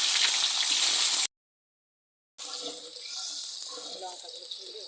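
Onion dropped into hot oil seasoned with cumin seeds and bay leaf for a spicy chicken curry, a loud hissing sizzle that cuts out briefly, then returns as steady crackling frying.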